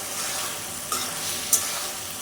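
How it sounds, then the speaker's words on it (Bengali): Mixed vegetables and fish in a curry sautéing in a pan on a home stove, giving a steady hiss of frying with a few short scraping stir clicks, close and continuous, no voices. "ভালোভাবে কষিয়ে নিব এটাকে তরকারিটাকে একটু বেশি ভালোভাবে একটু কষিয়ে নিব"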